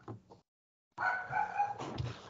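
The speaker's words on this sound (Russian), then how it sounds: "Джеська, что гавкает у нас?" A dog barks indoors: a couple of short barks, a brief silence, then a longer run of sharp, fairly close yelping barks.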